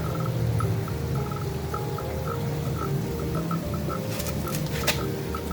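Hydroponic aerator pump moving water in a growing tank, a steady low bubbling hum with faint regular ticks and light splashy patter, close and continuous, with a few sharp clicks near the end.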